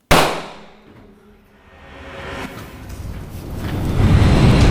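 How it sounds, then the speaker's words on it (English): A single loud, close gunshot crack from a live-action ninja film, decaying over a second before a rising wash of noise and commotion. "Ninja Girl ends up winning the day by just dropping the whole ninja stuff and picking up a gun."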